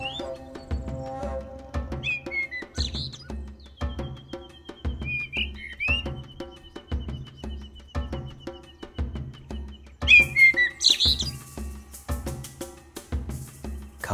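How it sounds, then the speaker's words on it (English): Bird chirps and whistling calls in the video game Copycat, scattered short tweets and one long held whistle over a steady rhythmic game soundtrack, fairly clear and unaccompanied by speech. "Hunt the bird"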